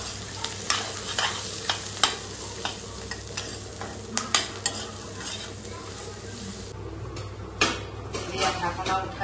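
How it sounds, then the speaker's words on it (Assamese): Dried fish stirred and fried in a wok until crisp, with a constant sizzle and frequent sharp scraping and clattering strokes of a spatula against the pan, close and fairly loud. "মাছখিনিও ভাজি লওঁ খৰখৰীয়া কৰি"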